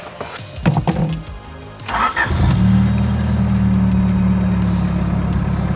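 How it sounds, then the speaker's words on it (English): A Honda Prelude with an idle problem has faint clicks and rustling before the engine cranks and catches, then it settles into a loud, steady idle. "Probably help if I use the car keys to start the Prelude."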